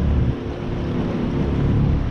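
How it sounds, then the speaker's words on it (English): Small fishing boat's outboard motor idling at a boat ramp after a mechanic's fix, a steady low rumble up close with wind buffeting the microphone. "Now we just have to get the motor to stop."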